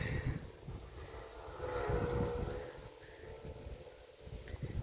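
Wind blowing through a vegetable garden with green bean plants, a steady rushing and buffeting on the microphone that swells in the middle and again at the end, with faint background noises.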